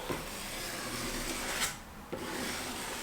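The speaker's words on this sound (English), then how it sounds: "you get your scraper and you go all the way down like so" A drywall scraper drawn down a taped inside corner, stripping excess filler in one long continuous rasping scrape, close and steady, with a short pause and a second stroke.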